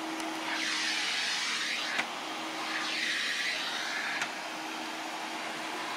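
A 1983 Hoover Sensotronic Total System 5 cylinder vacuum cleaner runs with a steady, powerful whirring drone, its pitch rising and falling gently, with two faint knocks along the way.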